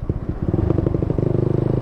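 A Suzuki Satria FU motorcycle fitted with an original used exhaust idles and revs close by, its engine pulsing in quick, even beats that tighten into a steady throbbing as it picks up.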